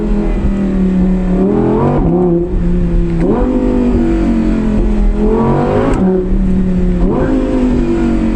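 An Audi R8 V10 Spyder engine revs hard and accelerates, loud and close, with rising and falling pitch sweeps as it downshifts and climbs through the revs, no talk over it.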